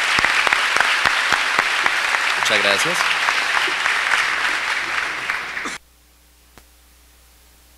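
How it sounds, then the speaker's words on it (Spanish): An audience at a SENA graduation ceremony applauds the graduates, dense sustained clapping from a crowd with a brief spoken thanks over it, then cutting off abruptly to near silence. "Un aplauso para ellos también."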